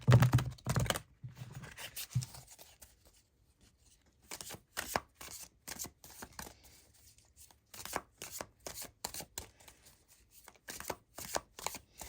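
Cards from a Career and Life oracle deck are shuffled and drawn, giving a run of quick, close riffling and tapping clicks in bursts separated by brief pauses, with no talk.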